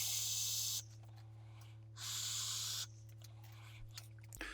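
Vapor drawn through a HELLVAPE Hellbeast RDA running at 100 watts, two close, airy hissing pulls of about a second each separated by a quiet pause, over a faint steady hum.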